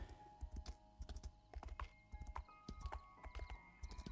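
Horse hooves clopping in the video game Pantheon, a steady trotting rhythm of close, crisp hoof strikes in paired beats, quiet and alone.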